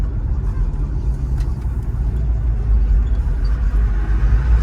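A 1973 Chevrolet Chevelle SS with a 350 V8 and automatic transmission drives along, its engine a loud, steady low rumble that holds without letting up under road and wind noise.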